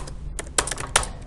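Keys clack on a computer keyboard while text is typed in Notepad, a handful of close, crisp taps in an uneven rhythm with short pauses, no talking.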